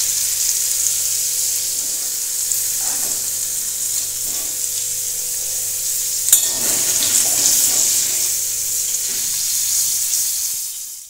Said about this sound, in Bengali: পনিরগুলো আমি হালকা করে ভেজে নিয়েছি। এখন আমি পনিরগুলোকে তুলে নিচ্ছি।